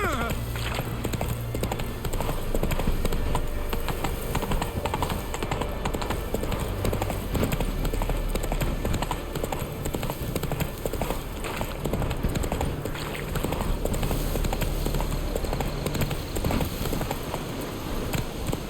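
Roach the horse trots in The Witcher 3, hooves clip-clopping in a quick, continuous rhythm under dense ambient game sound and music.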